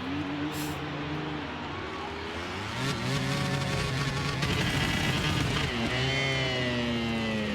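A race car brakes hard at the end of a long straight, its engine note dropping through downshifts, then revving back up in rising tones. A commentator talks over the sound.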